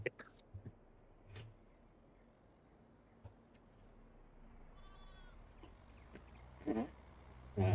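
Newborn lambs and ewes on a farm: a thin, wavering bleat rises out of quiet rustling, with scattered knocks and low murmuring voices nearby.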